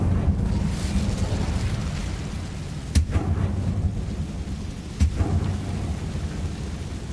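Fire spell cast in Hogwarts Legacy, heard as two sharp bursts a couple of seconds apart over a steady rumbling game ambience.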